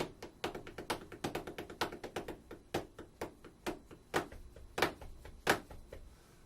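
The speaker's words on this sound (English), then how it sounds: "you can always use our favorite pencils to play your groove, right?" Quick wooden taps from pencils drummed in a steady groove, sharp clicks with a few heavier accents, played close by with no talking.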